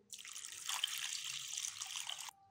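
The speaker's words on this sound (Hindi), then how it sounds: "तो इसके अंदर मैं 3 पाव के करीब पानी ऐड कर रही हूँ।" Water pours steadily into a mutton karahi pot for about two seconds, a continuous close splashing rush that stops abruptly.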